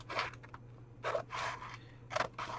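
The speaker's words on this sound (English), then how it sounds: "So I'm gonna go ahead and cut that." Scissors snip through glittery paper for a book cover in a few quiet, close crunching strokes, separated by short pauses.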